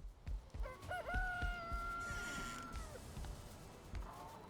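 Chickens in a farming video game cluck and crow during feeding, a clear rooster-like crow rising over soft clicks and thumps, loud and close with no talking.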